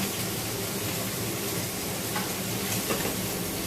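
Steak sizzles loudly in a hot pan as butter is ladled over it, a steady dense crackle and hiss with faint spoon taps, no voices.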